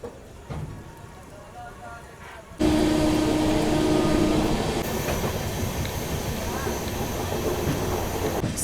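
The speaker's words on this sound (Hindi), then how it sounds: "यहाँ प्लेटफॉर्म नंबर 1 पे आ चुकी है गोरखपुर बनारस इंटरसिटी एक्सप्रेस" The Gorakhpur Banaras Intercity Express pulls in at platform 1 of a station, a loud rolling rumble of rail cars with clatter and wheel noise that surges suddenly and stays strong throughout, with faint voices underneath.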